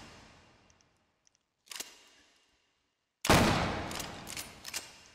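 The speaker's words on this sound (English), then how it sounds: "So, let's first off shoot some target." A Winchester 1873 lever-action rifle fired at targets in the VR shooting game H3VR: a faint early pop, then a loud, sharp shot with a long ringing decay followed by a few smaller mechanical clacks, no voices.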